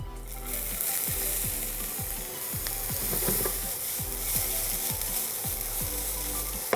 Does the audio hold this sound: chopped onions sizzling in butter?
yes